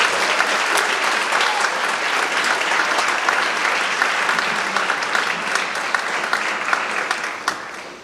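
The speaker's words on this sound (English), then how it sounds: "Please give applause." A crowd at a community awards ceremony applauds steadily, dense clapping at a constant level that begins to taper off near the end.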